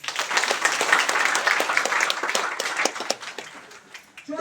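Seminar audience in a hall clapping, a dense rattle of many hands that swells and fades unevenly over a few seconds, with no talk over it.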